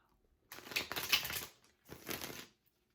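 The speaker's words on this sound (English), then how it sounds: "One more shuffle." Tarot card deck being shuffled by hand, two quick riffling bursts of crisp card flutter close by, separated by a short pause.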